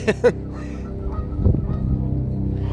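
Geese honk twice in quick succession near the start, loud and close, then give way to a low murmur of outdoor background noise with a few softer calls.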